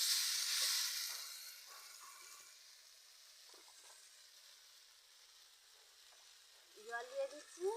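Water poured onto frying vegetables in a pan sets off a loud burst of hissing steam that fades into a quieter simmer, followed by a few sharp clatters and scrapes near the end.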